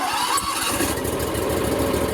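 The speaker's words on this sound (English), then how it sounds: "Install the battery load tester to the battery terminals and start the engine." A car engine starts and runs during a charging-system check with a battery load tester on the terminals, a loud, steady mechanical roar filling the whole stretch without talk.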